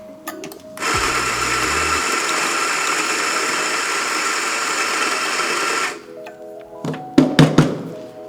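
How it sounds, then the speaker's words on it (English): A single boiler espresso machine purges coffee through, a steady loud pump hum running for about five seconds after a couple of clunks, then stopping, with a few knocks and clatters afterward. "I'm gonna purge a little bit of coffee through just to make sure when I pull my next shot"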